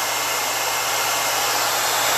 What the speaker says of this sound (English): So you can also double duty your blow dryer if you're in a huge hurry. Put it to cool, okay?